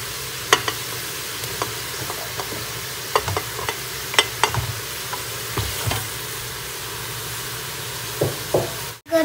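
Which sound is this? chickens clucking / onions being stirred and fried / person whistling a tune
onions being stirred and fried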